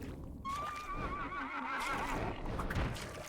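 A horse in the video game Devil Spire Falls gives one loud, wavering whinny that rises and falls over about three seconds, set against steady in-game ambient noise.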